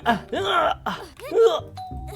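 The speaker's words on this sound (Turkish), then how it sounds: "Evet arkadaşlar zile basıp kaçıyorum." A doorbell chime rung in the video game Schoolboy Runaway, heard as brief electronic ding tones near the end, following a stretch of loud, animated character voices talking.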